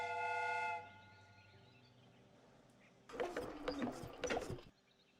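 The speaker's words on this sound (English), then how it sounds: "The steam whistle is ready to be used." A steam whistle on a replica train in a Sherlock Holmes detective game shrieks as one sustained harmonic blast for under a second, followed by a quieter hum and a later burst of clattering mechanical noise.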